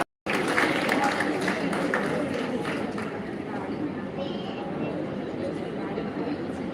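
Audience applause honoring a donor at the inauguration ceremony of an Umiya community hall in Malav, a sustained dense crowd clapping that begins abruptly and continues evenly at moderate volume.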